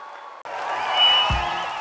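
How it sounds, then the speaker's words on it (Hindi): Applause and cheering for Dr. Hemant Savara at a large political rally, a crowd roar swelling in abruptly after a brief quiet, with a loud low thump partway through. "जोर से ताली बजाओ हेमंत जी के लिए।"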